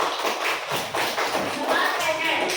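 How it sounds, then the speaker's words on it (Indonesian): A classroom of pupils claps their hands together for the whole class, a dense, scattered patter of claps and taps running steadily throughout, with a voice and chatter mixed in. "Tepuk tangan untuk kita semua"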